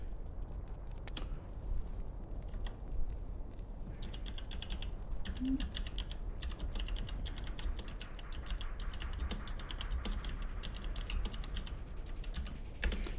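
Computer keyboard typing, soft irregular clicks and taps in uneven bursts over a low room hum, fairly quiet and continuous throughout.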